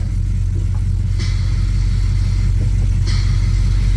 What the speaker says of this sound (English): we definitely got brakes, but why is it wheezing like that?